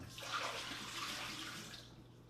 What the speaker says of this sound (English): So I'm going to pour this out.